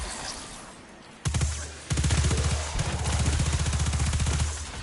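An exotic weapon firing in a first-person shooter, with a sharp shot at about 1.2 seconds and then steady rapid automatic bursts that are loud and close with no talking.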